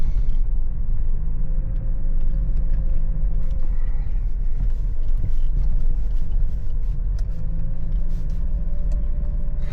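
A vehicle ploughs through deep snow drifts in a blizzard while following another's tracks, with a loud, continuous engine rumble close by and no talking.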